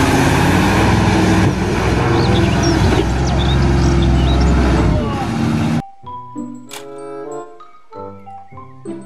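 A toy water tanker truck plays a loud rumbling, hissing engine noise with squeaky chirps, then cuts to a bright electronic jingle of tinkling notes.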